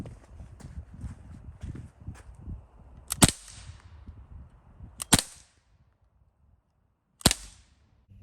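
A Glock 19 Gen3 .177 BB gun fires pellets at plywood: three sharp, separate cracks a couple of seconds apart, with quiet handling noises between them.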